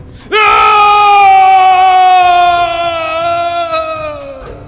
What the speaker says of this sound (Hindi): तभी कुछ ऐसा हुआ जिससे ऋषि की चीख उस हवेली में गूंज गई